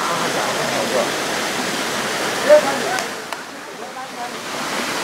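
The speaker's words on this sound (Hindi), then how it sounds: "काफी ऊंचाई पे बना हुआ यह फॉल है" Tanda waterfall in Mirzapur, a high fall surrounded by trees and hills, producing a steady broadband rush of falling water heard at moderate level, with brief faint voices and small knocks over it.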